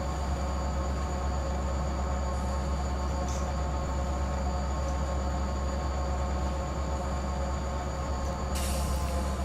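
Freight train rolling steadily in the rail simulator Run 8, a constant heavy low rumble with faint wheel squeal and rain noise, on an oil-can consist near a grade.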